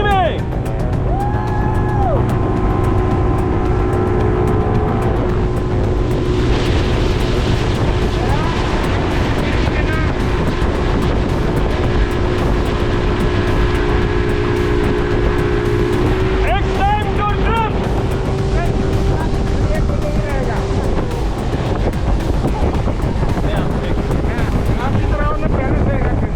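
A speedboat drifting on Attabad Lake in Hunza, with a steady loud engine roar, rushing water and heavy wind buffeting the microphone throughout and occasional distant voices mixed in.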